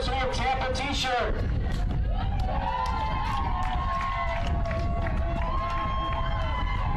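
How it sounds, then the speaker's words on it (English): Spectators at a Tampa women's college soccer game at Pepin Stadium make steady, loud crowd noise, with shouting and cheering across the stands and a few whistle-like tones rising above the babble. "Time to stand up and make some noise for a free University of Tampa t-shirt."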